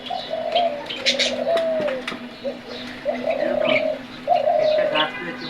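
A dove coos in a rooftop garden, several drawn-out low calls close by, with faint chirps from other birds behind.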